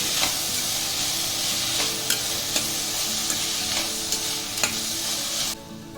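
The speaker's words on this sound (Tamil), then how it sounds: "இதை மாத்திரம் ஸ்டவ்வை சிம்மில் வச்சு வெங்காயமும் தக்காளியும் வதக்கலாம்." Onions and tomatoes sauté on a low flame for a vegetable kurma, a steady soft sizzle with repeated sharp clicks of a spoon stirring against the pan, cutting off abruptly near the end.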